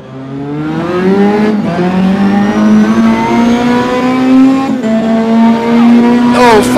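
Racing cars in a video game, including a Ferrari, with loud, close engine whine climbing steadily through the revs, brief gear-shift dips and tire noise near the end.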